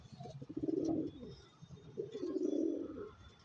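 Domestic pigeons kept in a loft coo softly at close range, two low murmuring phrases rising and falling with a short pause between, with no talk over them.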